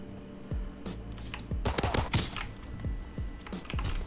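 Pistol gunshots in Call of Duty WWII gameplay fire as a quick irregular series of punchy cracks with low thumps, over a background of game ambience and clicking.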